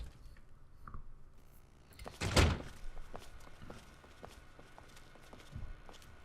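A single solid thunk as the chop shop door opens in Fallout 3, fairly close and sharp, followed by soft scuffing steps and faint ambient hum.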